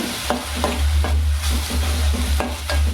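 Onion paste frying and being stirred in a pan for tuna fish biryani, a constant close sizzle with regular scraping strokes of a spoon about every half second over a low steady hum, no talking.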